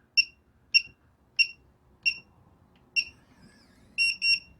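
Sharp electronic beeps from a keyless RV door lock keypad, single tones spaced evenly, then a quick double beep at the end, close and clear.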